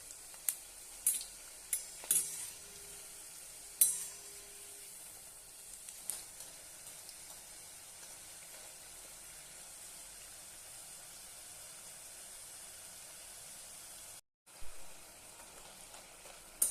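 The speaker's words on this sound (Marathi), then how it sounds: "आता आपण बाकी सर्व तळून घेऊया." Rice flour chips fry in hot oil, making a faint, steady sizzling hiss throughout, with a few soft clinks of a utensil early on and one brief dropout near the end.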